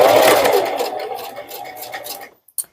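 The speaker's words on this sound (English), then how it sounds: "So I'm going to start stitching, and then I will do my back stitches." A sewing machine stitches a fabric bowl cover, running in a steady continuous whir that slows and stops, followed by a couple of faint clicks.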